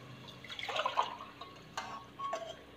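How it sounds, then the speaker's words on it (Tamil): Water is poured into a pot of sautéed ingredients for coconut milk rice, a short splashing burst followed by a couple of brief trickles, fairly close and moderately quiet. "ரெண்டு கிளாஸ்க்கான தண்ணி ஊற்றுறோம்"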